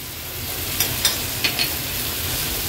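Garlic and butter sizzle in a pan for butter garlic prawns, a steady hiss with a few light clinks of a spoon stirring against the pan, no talking.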